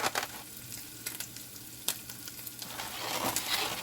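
Two eggs frying in a pan for an omelet, a close, steady sizzle with scattered sharp pops and a few stirring scrapes.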